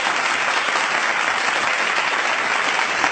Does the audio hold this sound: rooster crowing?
no